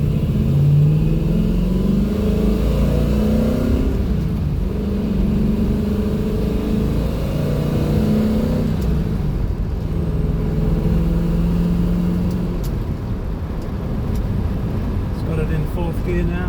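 A 1950s-style MG Magnette ZB coupe with a V8 engine accelerates along a suburban road, its loud, close engine note climbing in pitch several times and dropping back with each gear change, with a voice talking over it at times.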